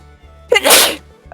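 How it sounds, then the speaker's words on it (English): A single loud, close sneeze bursts out sharply, preceded by a short inhale, with faint background hum around it. "I'm gonna sneeze."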